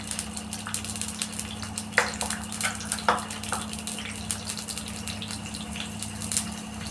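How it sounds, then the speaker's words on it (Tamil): Crushed garlic frying in hot oil in a pan with cinnamon and fennel for a chicken gravy, a steady low sizzle with a few louder crackles and spits near the start. "இந்த பூண்டு நான் இதில் போடுறேன். இது நல்லா வதங்கட்டும்."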